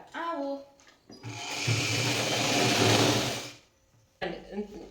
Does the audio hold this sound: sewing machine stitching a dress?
yes